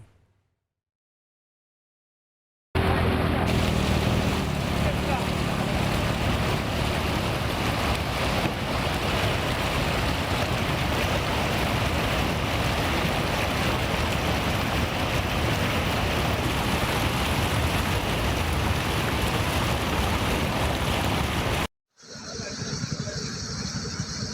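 Floodwater on the Vaippar river near Sattur surges over a submerged causeway, a dense, continuous roar of rushing water with wind buffeting the microphone, starting after a short silence and cutting off briefly near the end.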